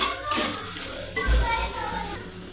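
Eggplant pieces frying with chili powder in a pan, a soft steady sizzle under occasional stirring and light scraping, close and moderately loud, with no talk.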